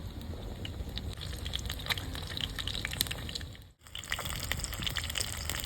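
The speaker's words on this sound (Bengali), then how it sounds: "ছেড়ে দিলাম তেলে আর একটা দিয়ে দিলাম" Stuffed capsicum fries in hot oil with a dense, continuous crackling sizzle, broken by one brief dip in the middle.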